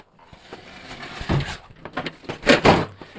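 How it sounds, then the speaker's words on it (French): Several drawers slide open at once, giving a series of scraping, clattering bursts that build to two loud peaks near the end. "quand tous les tiroirs s'ouvrent en même temps"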